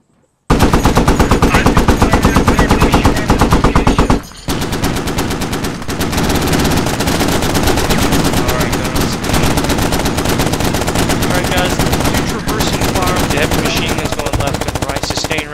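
Marines fire a .50 cal machine gun and Mk19 grenade launcher in sustained suppressive bursts, a loud, close, relentless rapid hammering that barely pauses, with voices faintly beneath.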